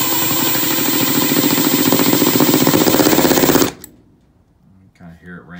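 12V cordless impact screwdriver, a Milwaukee M12 Surge or Dewalt 12V Xtreme, driving a screw into wood with a loud, close rapid hammering that ramps up and stops abruptly, followed by brief talk.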